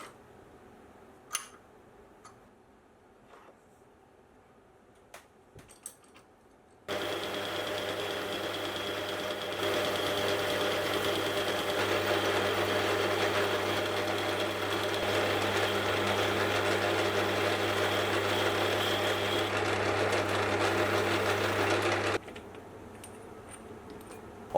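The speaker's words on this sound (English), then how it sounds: "I'll take a piece of scrap aluminium and then bore out the center, until the center is the same size as the spline shaft" A lathe bores out the centre of a piece of scrap aluminium: after a few quiet handling clicks, a steady motor hum with a cutting whine runs evenly for about fifteen seconds, then stops abruptly.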